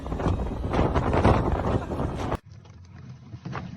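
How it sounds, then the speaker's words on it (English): Strong wind and heavy rain batter a coastline, a loud continuous roar of gusting wind buffeting the microphone that drops abruptly to a quieter, steady rush of wind and rain partway through. "Strong winds and rain lash a coastal area."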